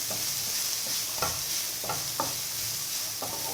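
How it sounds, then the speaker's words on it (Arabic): Thinly sliced onion frying in hot oil, a continuous close sizzle broken by several sharp stirring scrapes and clicks, with no talking. "عندي هنا بصيله مشلضه رقيقه. غنخليها تقلى"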